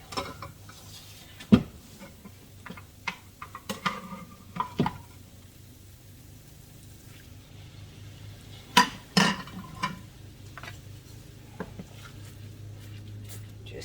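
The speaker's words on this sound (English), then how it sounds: "Just keep stirring." Risotto stirred in a pot, scattered soft scrapes and occasional louder knocks of a spoon against the pot rim over a faint steady hum, close and fairly quiet.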